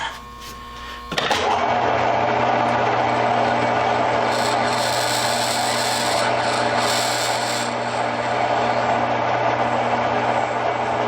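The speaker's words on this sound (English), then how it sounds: "clean it up and chamfer it" A chamfering tool cuts the edge of a screw cup hole in a Weihrauch 95 air rifle stock during pillar bedding work, making a continuous close grinding rasp that starts abruptly and holds steady, with no voices.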